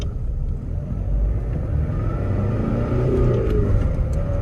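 A 1995 Toyota Hilux Surf pulls away from a stop in first gear, its engine a heavy low rumble that builds steadily as it accelerates, heard close from inside the cabin without talk.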